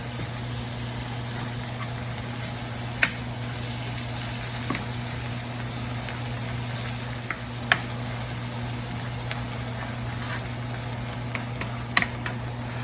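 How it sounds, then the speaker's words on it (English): Pasta goulash sizzles steadily in a pot while a spoon stirs it, producing occasional sharp scrapes and clicks over a constant hum. "you want to keep stirring this because you don't want it to burn at the bottom"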